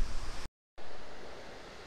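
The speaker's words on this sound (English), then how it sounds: "I have reached the famous beach of Trivandrum, Kovalam Beach" Surf at Kovalam Beach, Trivandrum, a steady broadband wash of waves that cuts out briefly, then returns loud and constant.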